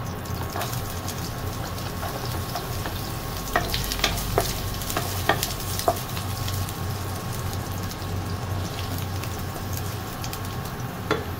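Garlic frying in cooking oil in a home kitchen, a steady close sizzle throughout with occasional stirring scrapes and clicks and no talking.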